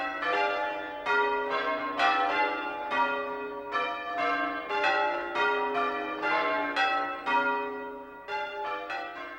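Church bells are change-rung, struck one after another in a steady, overlapping rhythm of bright ringing tones that carries on without pause, fairly loud and without voices.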